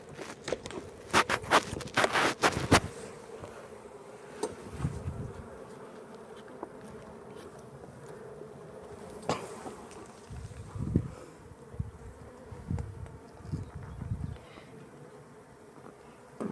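Honey bees buzzing around an opened small beehive during an inspection, a steady close hum throughout, with sharp clicks and knocks from handling the frames at the start.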